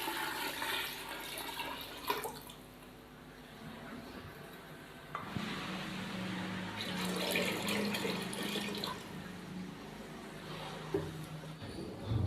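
Water poured into a pressure cooker holding beef for pulao stock, a faint, uneven splashing and gurgling stream that swells and fades with small clunks, no voices.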